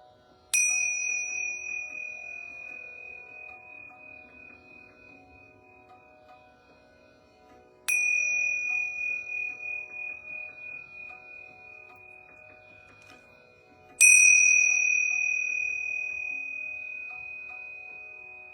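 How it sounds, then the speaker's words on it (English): Yoga bells ring three times at slow, even intervals, each a clear, bright metallic strike that hangs and slowly fades with a gentle shimmer before the next one in an otherwise quiet room. "I'm going to ring these yoga bells 3 times."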